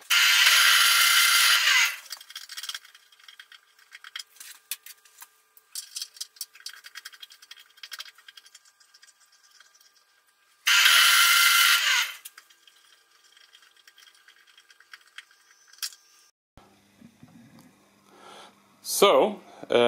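A power tool cuts bolts to equal length in short loud bursts, one near the start and another midway, with quieter handling clicks and taps between. A voice speaks near the end.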